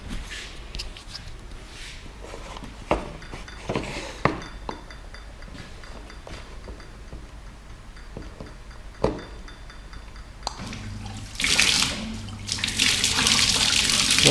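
A FastWasher 24 bottle washer is plugged in amid scattered clicks and knocks, then starts spraying water with a rising hiss that grows louder and continuous near the end.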